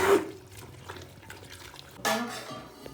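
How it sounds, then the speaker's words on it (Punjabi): Hot water poured into maize flour while preparing dough for makki roti, heard as two short close splashing pours, one at the start and another about two seconds later, with faint kitchen clatter between. "ਦੇਖੋ ਗਰਮ ਪਾਣੀ ਲਿਆ ਮੱਕੀ ਦੇ ਆਟੇ 'ਚ ਪਾਇਆ"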